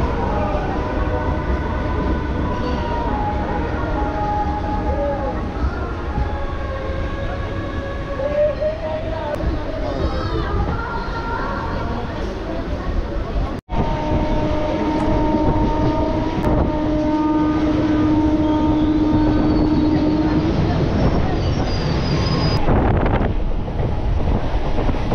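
A Howrah to Digha local train rumbles steadily from inside the carriage, with rattling wheels, wind buffeting the microphone and tonal hums from the train. Faint voices are mixed in.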